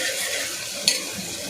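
Onions fry in a pan for a dhaba-style masoor egg curry, a steady close sizzle with a brief sharp clink of a stirring spoon midway.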